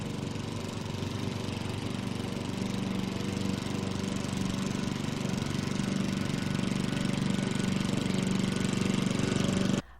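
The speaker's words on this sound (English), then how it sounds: "A gas lawnmower 31 meters or 100 feet away will create a sound level of approximately 75 decibels." A gas lawnmower engine runs with a steady, buzzing drone at moderate loudness for about ten seconds, then cuts off abruptly, with no voices.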